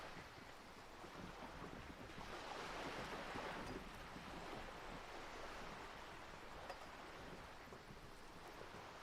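Wind flapping a ship's sail in Disco Elysium, a steady rushing gust with low rumbling flutter, sustained and fairly faint, rising slightly in the middle with no voices.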